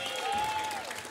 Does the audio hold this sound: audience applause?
yes